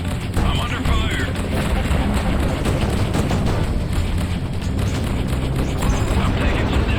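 Weapons fire pounding a spaceship's hull in the space combat game Freelancer, a continuous dense barrage of booms and bursts with heavy low rumble throughout, loud and unbroken.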